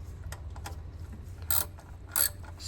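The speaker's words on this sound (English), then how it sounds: "then I'm gonna use my wrench to tighten all these" A ratchet wrench clicks in short bursts while tightening the eight transmission pan bolts on a VW Aisin 09G 6-speed automatic, with a couple of sharper metallic bursts over a low background hum.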